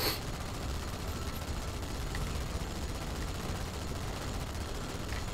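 Dense, continuous automatic gunfire fills a Halo 2 firefight, a steady rattling wash of shots with no clear gaps, moderately loud and alone without voices.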